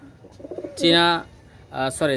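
A Chinese Teddy pigeon gives short, throaty cooing calls in close range, two brief rounds, with a person talking over and between them.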